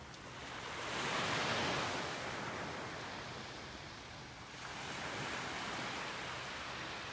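Steady surf rolls onto a foggy morning beach in North Naples, Florida, a continuous close wash of breaking waves that swells and eases gently, with no voices.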